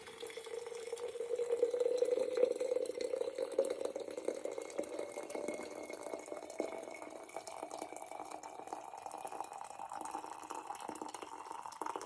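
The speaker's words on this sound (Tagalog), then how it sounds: "lalagyan natin ng mainit na tubig" Hot water poured into a container for a clove and rosemary infusion, a steady trickling stream that swells early then continues softly with faint drips, close and alone.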